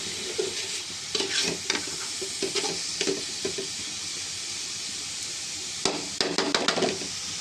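Greens with coconut paste stirred in a pan for a duck-meat meal: scraping spatula strokes come in irregular bursts over a steady low sizzle, with a quieter gap midway before another flurry of stirring near the end.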